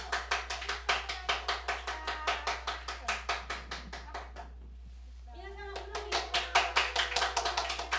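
An audience at a small live music bar claps in a steady, even rhythm during an award presentation. The clapping stops briefly while a voice speaks, then comes back strong and regular.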